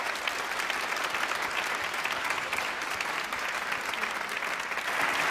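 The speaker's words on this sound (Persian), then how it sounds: "تشویقشون کنین، جایزهشون هم گرفتن." An audience applauding prize winners at a gathering, continuous even clapping from many hands at moderate distance, steady throughout without voices.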